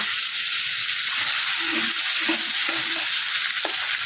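Chicken sizzling in a pan with ginger-garlic paste as a spatula stirs it, a steady loud frying hiss with a few soft scraping strokes, close and without talk.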